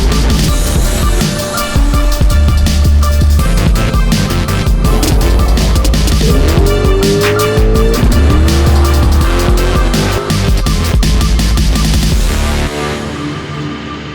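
A 5.3 LS V8 swapped into a 1971 Vega wagon runs loud and continuous, lumpy and uneven as it idles rough and rich on the wrong plugs, with a few swells in revs before cutting off near the end.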